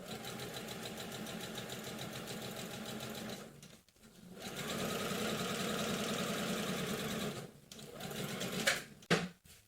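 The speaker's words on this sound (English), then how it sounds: "Find a fixed point, push the fabric apart and sew." A sewing machine runs understitching along a fabric edge, whirring steadily in two long bursts separated by a short pause, with a few brief stops near the end.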